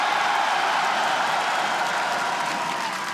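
A large esports arena crowd of Fnatic fans at an LEC League of Legends match roaring and cheering continuously, a dense, loud wash of voices and clapping that holds steady throughout.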